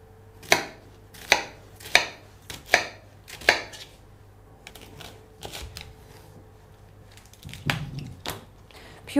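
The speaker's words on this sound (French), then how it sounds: "Puis on le coupe en deux." A knife chops through fennel on a cutting board. Five crisp, evenly spaced cuts come first, followed by quieter, scattered taps and a soft scraping near the end, all close by with no talking.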